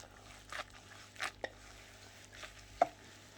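Soaked moss for propagating a variegated Monstera Borsigiana albo cutting is squeezed by hand to press out excess water, giving a few brief, soft, wet squishing bursts close by with quiet pauses between them.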